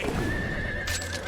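A horse whinnies in the video game Wo Long: Fallen Dynasty, a shrill neigh ringing over hoof clops and game effects, loud and close.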